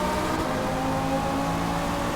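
A race car in a racing video game accelerates at Laguna Seca on soft tyres. Its engine drones steadily and loudly as one continuous whir throughout, with no talk.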